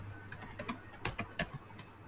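Typing on a computer keyboard while entering a function name in React code: a short, quiet burst of irregular key clicks over faint room hum.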